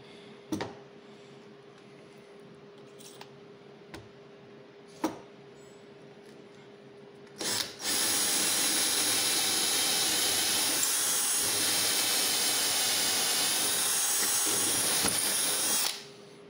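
Power drill boring holes through a clamped aircraft rear spar, a few short separate knocks first, then a loud, steady high-pitched drilling whine held for about eight seconds before cutting off, no talking.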